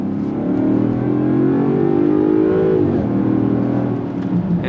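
A supercharged V8 in a 2025 Land Rover Defender 130 accelerates hard from inside the cabin, its deep engine note climbing steadily in pitch, easing briefly, then pulling again.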